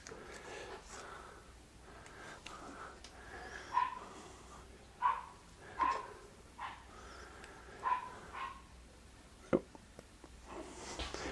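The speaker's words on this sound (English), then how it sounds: "Can you hear my neighbor's dog barking?" A neighbor's small dog barks in faint, scattered yips at a distance, a handful of sharp bursts spread irregularly over a quiet room background.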